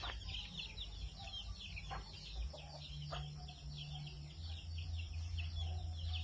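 Faint, intermittent clucks from free-range backyard hens, including a black mother hen, in Antequera, Bohol, over steady insect-like buzzing and a low rural drone.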